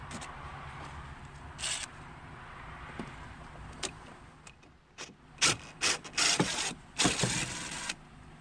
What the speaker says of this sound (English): we're going to need to remove these two screws up top here on the air box